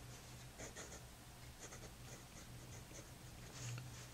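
A Noodler's Ahab flex-nib fountain pen scratches across paper in short, faint strokes with brief pauses, close and quiet, with no talk.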